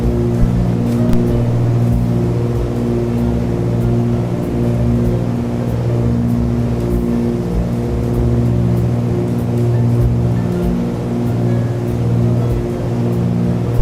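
Twin piston engines of a Milviz Cessna 310R droning steadily in Microsoft Flight Simulator during a general aviation flight over Italy, loud and constant throughout with a sustained harmonic hum and no talk.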